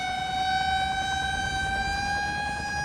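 Fire engine siren in the Cities: Skylines city-building game, a steady sustained wail with stacked tones holding level and loud throughout, over a low rumbling background and no talk.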